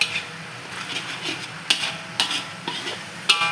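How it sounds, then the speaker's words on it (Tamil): Black pepper being stirred into a spicy garlic chicken gravy, a few distinct metallic spoon clicks against the pan over a soft low simmer, close and otherwise quiet. "போட்டு நல்லா மிக்ஸ் பண்ணிக்கோங்க."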